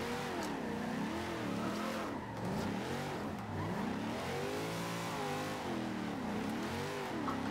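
A car engine in Forza Horizon 2 revs hard while drifting, its pitch swinging up and down in repeated sweeps. It stays loud and close the whole time, with faint tire noise underneath.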